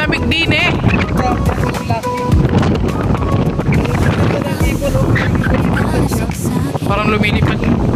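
Strong wind buffets the microphone on a cold boat crossing near Mount Mayon in Camarines Sur, a continuous loud roar with rumbling gusts as people talk over it throughout.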